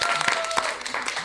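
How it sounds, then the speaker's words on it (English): Town hall audience at a televised political forum in Lafayette, Louisiana claps briefly, a short patter of applause with a few sharper individual claps, moderately loud and fading near the end. "Y'all can clap it up one time if you want to."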